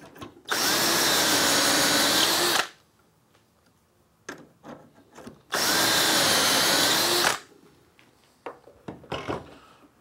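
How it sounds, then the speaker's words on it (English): A power drill whirs in two bursts of about two seconds each, boring holes in wood through a doweling jig, with quiet handling clicks and knocks between them, close by. "Tighten the brass clamp screws and drill the two remaining holes"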